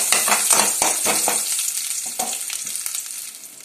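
Garlic fries in a pan for a breadfruit hulibendi curry, giving a steady hiss and crackle with a few stirring scrapes near the start. The sizzle is close and fades slightly toward the end.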